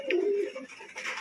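Pigeons in a cage at home cooing softly, a short low throaty coo up close with a faint brief chirp.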